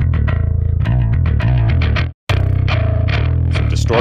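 A rock bass guitar plays a steady, thick riff through an amp, loud and continuous, with a brief gap of silence partway through before the notes resume.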